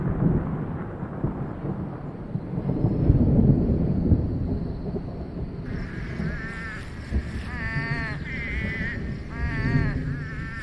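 Deep, rolling thunder rumbles low and steady through the Sonoran Desert, with a broad wash of storm noise beneath; partway through, faint bird or animal calls rise over the continuing rumble.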